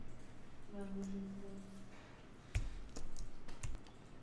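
Several crisp mouse clicks at a computer while working in Adobe Illustrator, sharp and close, standing out over a steady low room hum.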